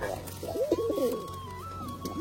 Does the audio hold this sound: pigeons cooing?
yes